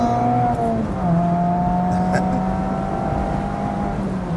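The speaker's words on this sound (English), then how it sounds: "This car makes some crazy sounds when you drive it hard too." A car engine drones at high revs, holding a steady strained tone with slight shifts in pitch, close and loud throughout.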